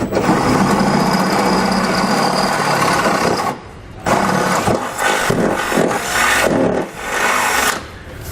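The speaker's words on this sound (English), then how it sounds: "we can then drill out a hole in our frame rail" A power drill grinds steadily through the metal frame rail of a 2019 Subaru Outback during a trailer hitch install, its high whine dipping briefly a few times as the pressure eases, loud and close.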